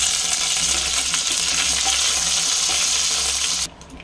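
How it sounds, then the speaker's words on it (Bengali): Cumin seeds and curry leaves sizzle in hot mustard oil in a wok, a dense, continuous crackling hiss up close that cuts off abruptly near the end. "তেল গরম হয়ে গেছে। এবারে দিয়ে দিলাম জিরে আর দিলাম কারি পাতা"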